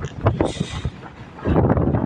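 Strong wind buffets a ship at sea during anchorage shifting, roaring gusts across the microphone with muffled voices in between, swelling louder toward the end.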